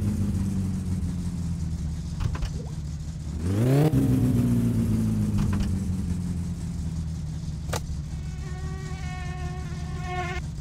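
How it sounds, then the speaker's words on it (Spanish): A car engine in the game My Summer Car hums steadily, then revs up sharply with a rising whine before settling into a droning idle, followed later by a faint fluttering buzz. "Ignición, acelerando."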